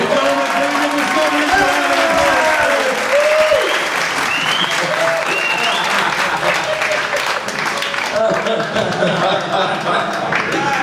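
Loud, sustained applause and cheering from a crowd welcoming a rock band at a press conference in Singapore, continuous throughout with voices mixed into the clapping.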